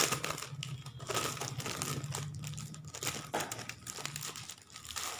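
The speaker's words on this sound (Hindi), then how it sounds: "ऐसे पॉलीथीन में करके आया हुआ है।" Polythene packaging around a budget clutch bag crinkles and rustles steadily up close, with irregular crackling handling sounds and no talk.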